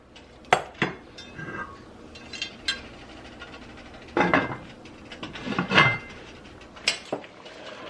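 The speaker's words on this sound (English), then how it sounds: "I'm gonna put the top back on it for about 8 minutes" A lid going back onto a pot of shrimp and crawfish étouffée in a home kitchen, heard as several close metallic clanks and clinks spread irregularly over a few seconds, with quiet pauses between.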